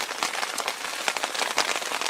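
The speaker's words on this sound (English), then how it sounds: "And that rain is getting heavy" Heavy rain pours steadily during a sea fishing trip in the UK, a dense, continuous hiss of drops pattering on nearby surfaces with no talk, loud and close throughout.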